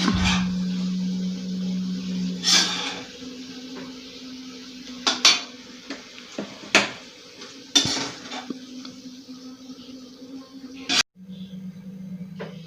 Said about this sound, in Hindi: अब हम प्लेट में निकाल के लेंगे।